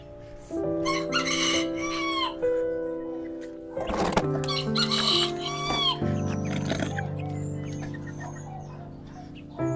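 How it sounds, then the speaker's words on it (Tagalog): Chickens at close range, including small orange-colored birds, crow and cluck repeatedly in an outdoor yard, the calls overlapping one another with steady background noise. "So ito yung manok na nagagandahan ako sa kulay niya."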